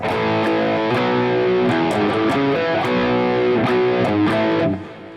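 Distorted electric guitar chords ring out through a modeled EL34 amp with parametric EQ off, a gritty, saturated tone, strummed in a steady pattern before cutting off near the end.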